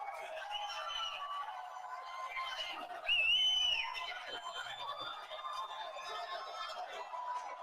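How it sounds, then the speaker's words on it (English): Large crowd at a Harrisburg, Pennsylvania town hall meeting, a constant hubbub of chatter with a loud burst of shrill cheering and whooping in the middle, voices carrying over the room noise. "Nice crowd. I would say It's a big crowd."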